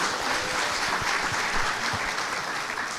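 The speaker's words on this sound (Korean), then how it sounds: "박수 한번 주십시오" Steady applause from a crowd at a political party gathering in Daegu fills the space, a dense continuous clapping that holds evenly throughout.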